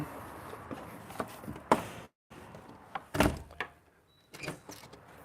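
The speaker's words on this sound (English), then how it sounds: "Making sure the front door is closed." A front door thumps shut on a windy day amid rustling and handling noises, with a couple of sharp knocks and a brief silent gap, close by.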